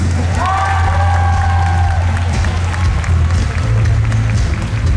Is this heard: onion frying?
no